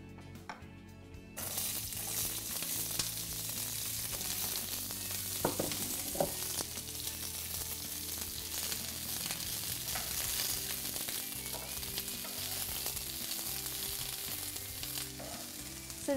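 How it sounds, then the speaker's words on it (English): Chopped vegetables sizzle and crackle steadily in hot oil in a stir-fry pan for a vegetarian dish, a dense continuous frying hiss with occasional clatter from tossing, close and fairly loud, no voices. "So now that I put the vegetables in, I'm just gonna toss it a few times and make sure that the oil coats all my veggies"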